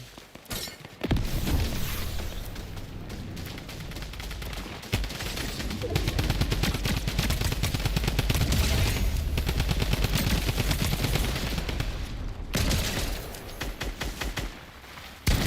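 Other players fire guns in the video game Fortnite, with loud, sustained bursts of rapid shots that keep going for most of the stretch.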